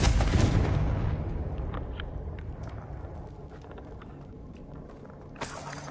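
A Confringo fire spell from a Hogwarts video game erupts in a heavy, loud blast that rumbles and fades over several seconds, followed by a second, sharper burst near the end.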